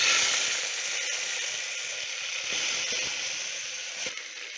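Tomato and onion sautéing in a pan, a steady hissing sizzle that holds evenly at moderate loudness for a few seconds with no speech.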